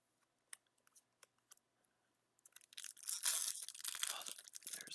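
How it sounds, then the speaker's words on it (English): An Aether Revolt Magic card booster pack wrapper is opened at close range: a few sharp scattered clicks and rips, then a loud, continuous crinkling and tearing of the foil wrapper. "Gotta love that crinkly sound. I know I do. All right, in the older packs, man, they really crinkle."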